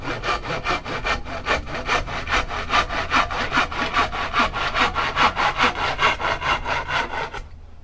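Hand saw cutting wood into rib-size pieces, with steady back-and-forth strokes, about four per second. The sawing is close and loud, keeps a regular rhythm for roughly seven seconds, then stops abruptly.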